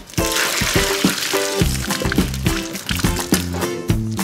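Cooked red lentils are drained, the water splashing steadily with a loud, continuous pour and gurgle, tonal sloshing rising and falling over about four seconds close by.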